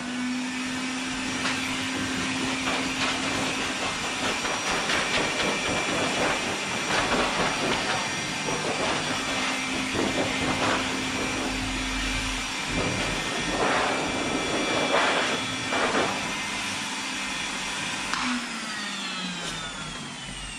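A dog-grooming blow dryer blasts hair off a dog with a loud, steady rushing hiss and whine for about twenty seconds, its pitch shifting slightly as the nozzle moves.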